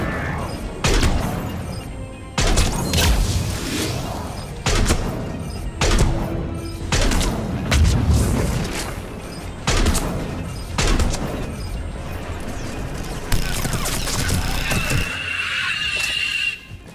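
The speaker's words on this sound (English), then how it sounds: "We're taking heavy fire from the second story" Heavy gunfire in the Mass Effect 3 video game, set on Earth: loud repeated bursts of shots and booming impacts hammer in close succession throughout, with brief gaps and a harsh whining tone near the end.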